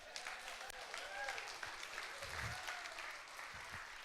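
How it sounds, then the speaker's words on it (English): Audience applause at a community entrepreneurship gathering, with many hands clapping in a dense, sustained patter, lightly mixed with crowd murmur and a few louder claps. "Give yourself a round of applause again"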